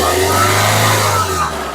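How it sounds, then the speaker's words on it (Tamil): A used car's engine at a dealership revs steadily, a loud close hum with a strong low drone held for under two seconds, no talking over it. "இதை பாருங்க, ரேஸ் பண்ணுப்பா"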